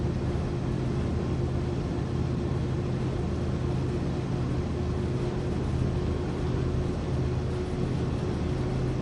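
Heavy diesel locomotive engine in Train Sim World 5 hauling freight, a loud, steady low rumble with a constant drone, filling the space without pause.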